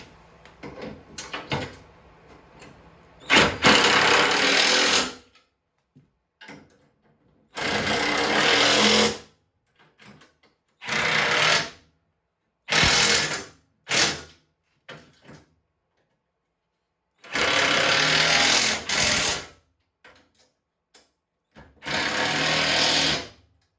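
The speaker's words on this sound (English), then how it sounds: "we got the bolts in, so now we're going to tighten them up" A power drill tightening bolts on a John Deere 400 fires off in loud, harsh bursts of several seconds each, separated by quiet gaps and a few clanks and shuffles.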